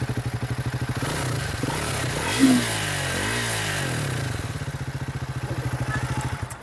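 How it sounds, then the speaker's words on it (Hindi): A Triumph Speed 400 motorcycle with stock exhaust idles with a steady thumping pulse, revs up sharply in a rising and falling burst, then settles back into its loud, even idle. "एक बार एग्जॉस्ट का साउंड सुना सकते हैं आप?"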